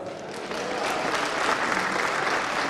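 An audience at a birthday bonanza prize draw event claps steadily, a dense, sustained round of applause that swells slightly and holds throughout.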